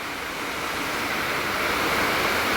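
Heavy rain falls in a dense, steady wash of broadband noise, loud and close, with no pauses and no voices.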